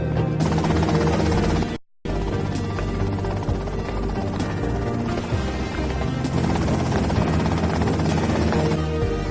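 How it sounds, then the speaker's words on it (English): Helicopter in the video game GTA Vice City, a loud, steady rotor roar with engine drone that runs continuously, broken only by one brief dropout near the start, with no talking. "that's them in the chopper"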